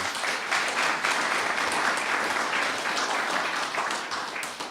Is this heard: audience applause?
yes